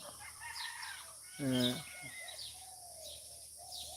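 A rooster crows once, a short, loud call standing out from a steady low background hum, with faint indistinct sounds around it.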